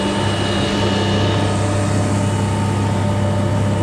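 A homemade electric boat motor running on batteries at full power drones steadily and loudly with a constant hum and broadband wash, continuous with no pauses.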